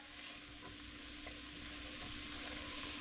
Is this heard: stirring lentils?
yes